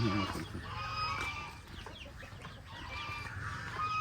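Chickens clucking inside a coop on a Felda settler's farm, a steady mix of clucks and calls at moderate distance with a faint voice underneath.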